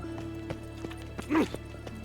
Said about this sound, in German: Tolle Pferde da.